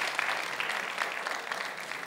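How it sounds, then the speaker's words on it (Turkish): A crowd claps steadily throughout, a dense, even patter of many hands at moderate volume, without pause. "Bütün baba... babalara bir alkış alalım."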